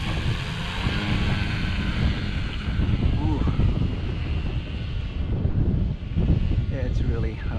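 An RC STOL airplane with a 16x8 prop on a 4S setup runs at full throttle, its motor buzzing steadily amid heavy wind rumble while someone talks outdoors.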